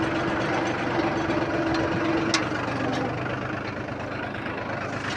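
A tractor engine drones steadily while reversing on a farm plot, a continuous low, rumbling idle-like note with no voices, holding at an even level throughout.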